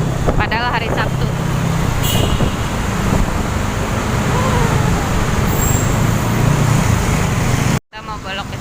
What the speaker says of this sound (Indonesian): Macet di MRT Haji Nawi ya